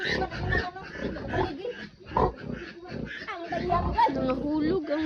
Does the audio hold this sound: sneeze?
no